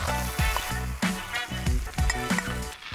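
Chicken and onion sizzle in a cauldron (ceaun) over the fire, the frying crackle swelling in rhythmic surges about every half second as the food is stirred, close and alone.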